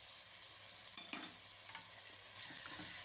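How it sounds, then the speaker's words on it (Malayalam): Spice powders such as coriander and chili being stirred with crushed garlic in a pan for Kerala beef varattu, giving soft scraping strokes and a faint sizzle, quiet and close. "പൊടികൾ ഇട്ടതിന് ശേഷം നല്ലപോലെ ഒന്ന് ഇളക്കി കൊടുക്കുന്നുണ്ട് കേട്ടോ."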